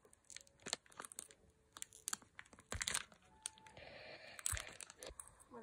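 A Pokémon card pack torn open by hand, with irregular close ripping and crinkling foil sounds in quick bursts, quiet and near.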